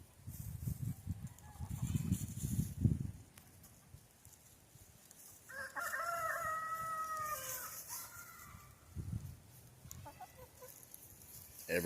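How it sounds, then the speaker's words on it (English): Chickens in a forest cluck in short bursts near the start and again later, with one drawn-out, crowing-like call in the middle, all fairly quiet against soft rustling of scratched leaves and dirt. "Chickens are scratching up leaves and dirt."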